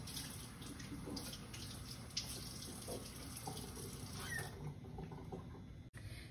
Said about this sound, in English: Now I'm rinsing the peppers,